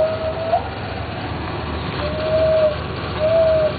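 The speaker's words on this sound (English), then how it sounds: "Bird Calls" Birds call out in a few thin, sustained whistled notes spaced apart, mid-distance over a constant low rumbling background, with no voices.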